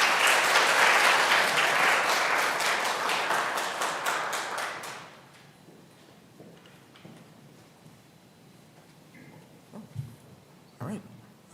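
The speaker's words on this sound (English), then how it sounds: "give Trey a round of applause" Audience applause at an honors conference session, loud dense clapping for about five seconds that then stops abruptly, leaving quiet room noise with a couple of faint thumps.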